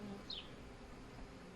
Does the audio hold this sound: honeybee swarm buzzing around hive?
yes